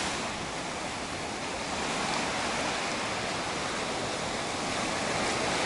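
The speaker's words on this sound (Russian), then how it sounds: "просто вот такие вот сегодня многочисленные прям волны" Continuous broad roar of numerous moderate ocean waves breaking and washing steadily onto Incekum Beach in Alanya, Turkey, in May, fairly loud with no voices.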